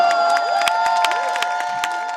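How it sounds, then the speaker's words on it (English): A crowd cheers and applauds students performing on stage, the clapping and cheering running under a loud sustained musical tone. "the crowd burst into cheers and applause"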